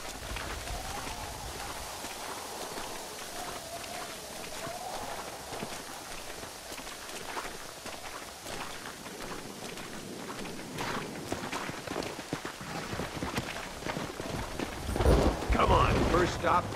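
Horse hooves clip-clop steadily in Red Dead Redemption, a continuous patter of footfalls that grows louder and busier toward the end, with no talk over it.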